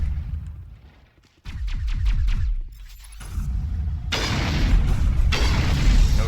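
Video game gunfire crackles in rapid bursts of loud booming shots, then gives way to a heavy, sustained roar of blasts and rumble that stays close and dense until the end, with no talking.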